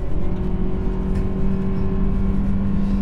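A 1.5-litre T3 turbo Volvo S60 accelerates at full throttle up a steep ramp, its engine droning loud and steady with a rising tonal hum and no voices over it.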